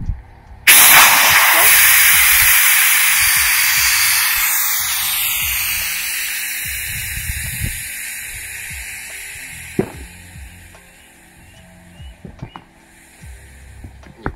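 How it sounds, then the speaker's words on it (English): Air rushes out of the open valve of an iRocker All Around 11 inflatable paddle board in a loud, steady hiss that starts abruptly and slowly fades, with light handling knocks and thumps underneath. "Now we'll be deflating the board"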